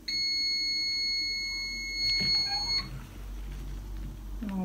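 A heat press gives a steady high electronic beep for nearly three seconds as its timer ends, then stops, followed by quiet background noise and a faint clunk.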